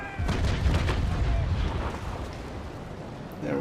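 Cannons on a sailing frigate, a Trincomalee dueling a Belle Poule in Naval Action, fire a broadside as a loud cluster of deep booms that fades into rumble, followed by another blast near the end.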